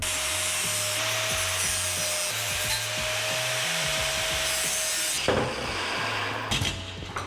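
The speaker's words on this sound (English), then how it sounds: "all I'm doing here is cutting a notch so that I can take this section and that section and fold it flat." Notches are cut into the tabs of a new radiator for a turbo Datsun 510. A continuous, close rasping and grinding runs over a steady tonal hum, and the texture shifts and roughens toward the end.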